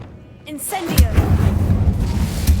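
A fire spell cast in the Hogwarts Legacy video game: a rising whoosh bursts into a loud booming impact, followed by steady crackling, rumbling flames and a few deep thumps.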